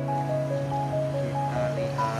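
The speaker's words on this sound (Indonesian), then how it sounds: "Kita lihat ombak datang dari pantai, dia masuk ke muara." Ocean surf rolling in at Logending beach in Kebumen, a steady rushing wash of waves entering a river mouth, with a tonal hum layered over it and no talk.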